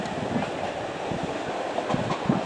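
A TransPennine Express class 802 train passing through York station, a steady rumble with faint clickety-clack of wheels over rail joints, close and continuous with no talk.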